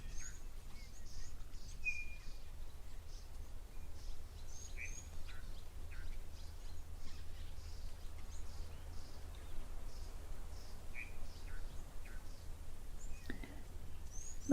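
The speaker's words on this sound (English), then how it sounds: "you can hear the odd bird call there is from a chin spot batis" Occasional short, high calls of a chinspot batis ring out at a moderate distance over a steady low outdoor rumble at a waterhole, scattered irregularly rather than in a continuous song.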